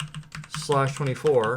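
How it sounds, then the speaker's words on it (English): A brief run of computer keyboard keystrokes as a network route command is entered while configuring a Cisco ASA firewall, then someone speaks over the last of the typing. "I'm going to need to type in route"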